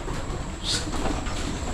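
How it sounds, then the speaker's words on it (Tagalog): Pigeons coo softly nearby over a steady background rumble, with a brief brighter chirp partway through. "Mga kalapati natin na to."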